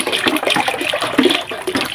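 Water runs steadily from a tap in hot weather, a continuous splashing rush that stays fairly loud and even throughout, with no voices.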